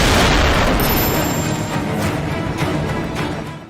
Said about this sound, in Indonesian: pasukan brigade yang menyergap langsung memberikan peringatan tembakan